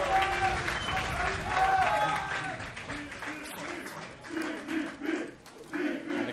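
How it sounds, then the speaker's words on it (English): A crowd at a Tekken 7 tournament in Berlin cheers and claps in bursts under excited commentary, the noise swelling and fading with several sharp shouts. "And the crowd obviously cheering for DBP."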